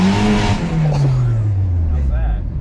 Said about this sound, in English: That was wheel spin.